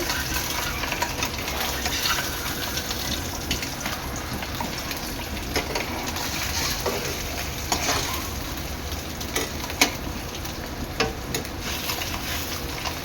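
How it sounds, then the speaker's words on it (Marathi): A stuffed egg fries in a pan, giving a continuous close sizzle and crackle that holds steady throughout, with a few brief clicks and taps of a utensil. "मस्त तळून घेणार आहे खरपूस रंग येईपर्यंत"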